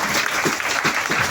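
A short, steady burst of clapping from a small gathering at an Indonesian motivational talk about life's aspects, with dense hand claps rising and falling and no voice over it.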